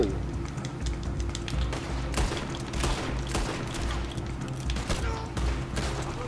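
Rapid bursts of gunfire from a Red Dead Redemption 2 Online multiplayer shootout, sharp overlapping shots cracking in irregular clusters over a steady game backdrop, with players talking at times.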